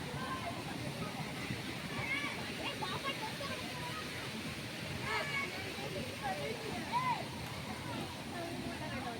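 Steady rushing water of a waterfall at Manjolai, a constant broad roar throughout with faint voices mixed in.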